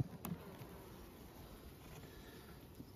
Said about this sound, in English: There's plenty of bees in here